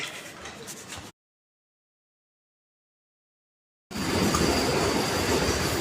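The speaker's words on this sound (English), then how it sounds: "This is Vande Bharat. It's running nowadays. It's an upgrade version of the train." A Vande Bharat train rushes past with a loud, steady roar of wheels on rails, cut by a silent gap before the rumble returns at full strength.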